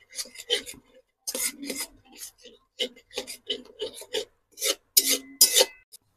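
Cashew and poppy seed paste is stirred into spices in a kitchen pan, giving dry, rasping scrapes in uneven bursts, close and fairly loud, with brief pauses between strokes and no talk.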